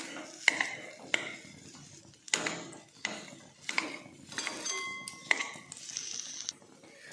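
Dates being stirred and mashed in a pan while roasting over low to medium gas, with a utensil clinking and scraping against the metal in close, irregular strokes and scattered sharp taps.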